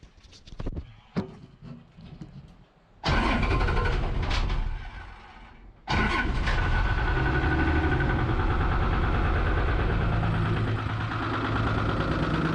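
A 1975 Chevy stepside diesel truck engine running cold, rough and loud at close range, after a few faint knocks and a brief quiet spell, with a steady coarse rumble that holds to the end.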